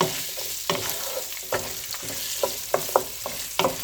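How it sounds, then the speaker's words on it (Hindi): Sliced onion fries in oil with cumin in a pan on a medium stove, crackling and sizzling steadily up close while a utensil scrapes and stirs in irregular bursts, with no voices. "अनियन का कलर गोल्डन ब्राउन होने तक इसको फ्राई करेंगे।"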